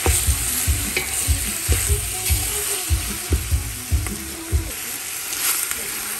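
Pork ribs being stir-fried in a pot sizzle loudly while a utensil scrapes and stirs in a steady rhythm of repeated strokes, close and continuous.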